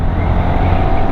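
Honda Winner X motorcycle engine on a race track during gear shifts, a loud close steady drone held for about a second.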